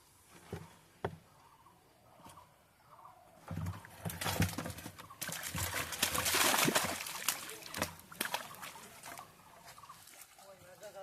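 Water and fish are poured into a net at a drained village pond, giving a building wash of splashing and slapping that peaks midway, then breaks into scattered splashes and drips.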